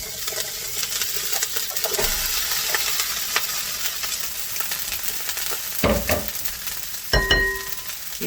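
Cooked brown rice being stir-fried in a pan for fried rice, a low steady sizzle broken by a few sharp scrapes and metallic clinks of a utensil, close and without talk.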